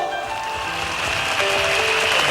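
Audience at a Cantonese pop concert clapping steadily, a dense, continuous wash of applause that stays even throughout, with faint music tones carrying underneath.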